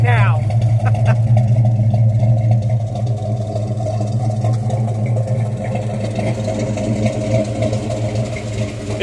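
A 1968 Dodge GTS with a 383 V8, four-speed and 3.91 Sure Grip rear idles steadily and loudly up close, its deep lopey rumble continuous throughout.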